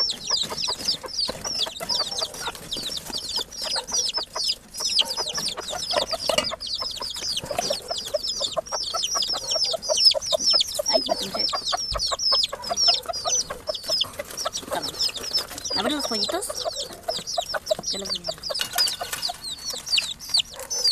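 Hens cluck and chatter continuously in a home garden, many birds close by making busy, overlapping calls with occasional louder squawks.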